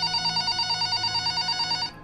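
A telephone rings in a steady, repeating electronic trill with a clear, moderately loud tone that cuts off just before the end.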